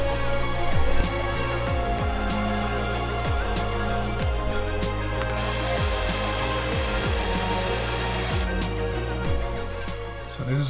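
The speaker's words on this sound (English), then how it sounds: "So this is our smoke machine." A homemade smoke machine inside a 3D printed prop, built from an atomizer and an air pump, gives a steady close whir and hiss with a pulsing low buzz and faint clicks.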